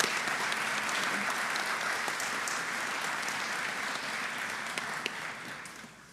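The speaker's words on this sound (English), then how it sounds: "Yes, let's do clap though." Sustained applause from a crowd, steady throughout and slowly tapering off toward the end.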